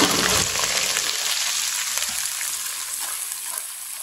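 Garlic and ginger paste sizzling in hot oil for Hyderabadi-style chicken biryani, a steady close frying hiss that is loudest in the first half-second and then settles into a continuous crackle with no talking.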